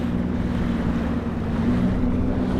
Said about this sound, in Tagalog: patayin ko lang yung makina ha